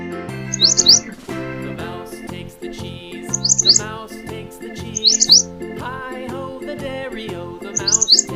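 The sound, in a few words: bulbul bird chirping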